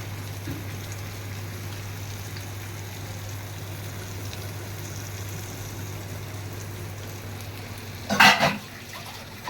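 Food frying in the leftover oil in a pan, a steady soft sizzle with a low hum underneath, and a brief louder stir or scrape near the end.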